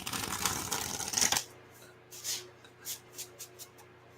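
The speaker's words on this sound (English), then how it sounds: "I have to shuffle them like this if I wanted to shuffle them." Thick cardstock tarot cards being shuffled in a dense riffling burst for about a second and a half, followed by a few soft, separate card taps and flicks in a quiet room.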